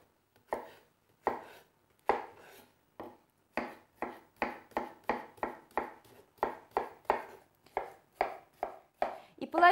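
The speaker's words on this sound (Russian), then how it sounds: "Нарезаю также кубиками." A knife dicing cucumber chops repeatedly on a cutting board, sharp close taps in a quick, uneven rhythm, slower at first then speeding up.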